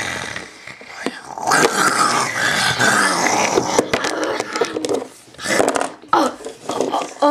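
A voice imitates a wolf roaring playfully during play with Schleich wolf toy figures, growling and roaring loudly and nearly continuously, with breaks and rises in intensity.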